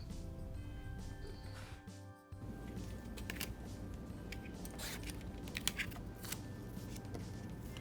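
Scissors cut around cross stitch fabric, giving soft, close snips and crisp crunching cuts that repeat irregularly.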